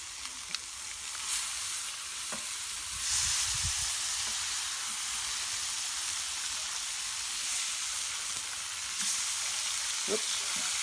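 Smash burger patties sizzling on a hot griddle, a steady bright crackling hiss that holds throughout with occasional small pops and faint scraping.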